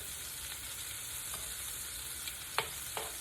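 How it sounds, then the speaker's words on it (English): Fish frying in olive oil in a pan gives a steady, even sizzle throughout, with a few faint clicks and taps from a spatula near the end. "And just let your fish cook on each side."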